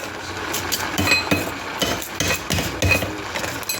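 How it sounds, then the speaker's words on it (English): A chocolate bar is broken up with a knife, producing a series of close clinks, taps and cracks against a hard surface over a faint steady background hiss. "This is me breaking this chocolate."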